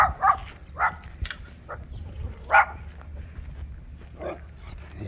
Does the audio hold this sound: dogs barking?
yes